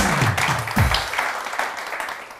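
A studio audience bursts into applause for a doctor guest, a dense wash of clapping over a few seconds with a voice briefly over the start.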